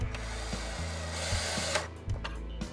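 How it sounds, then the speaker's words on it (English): Two screws being tightened on the motor controller of an MGI Navigator Quad golf trolley give off a series of close clicking, ratcheting taps over a steady low mechanical hum. "Once into position, tighten up the 2 screws."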